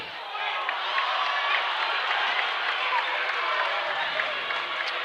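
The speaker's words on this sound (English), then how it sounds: "crowd is amazing today. Oh yeah, they showed up today." A basketball crowd at a college tournament game, Drury versus Pioneer, cheering and clapping in a steady, dense roar that holds loud throughout, with a few sharper claps over the wash of noise.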